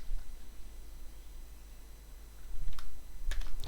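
Kotlin code typed on a computer keyboard: a quiet stretch, then a few sharp key clicks and a short burst of taps near the end, close and isolated with no talking.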